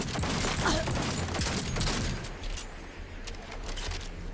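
Sniper gunfire in the video game Cyberpunk 2077: a dense stretch of loud, overlapping shots and booms in the first half, easing into a steady noisy bed of quieter firing.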